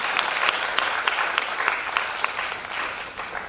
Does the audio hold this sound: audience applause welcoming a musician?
yes